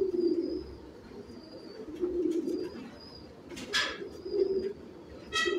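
A fine pigeon gives several low, bubbling coos in short rounds with pauses between, close and moderately loud, with a few sharp clicks and no talking.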